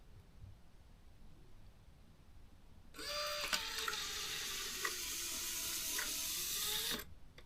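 BMW E46 rear window sunshade motor with worn, dried-out gear grease running on a bench, a close whirring mechanical drone with gear rattle and clicks that starts abruptly, holds for about four seconds, then stops.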